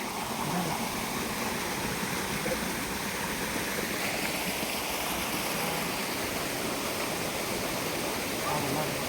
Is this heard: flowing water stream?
yes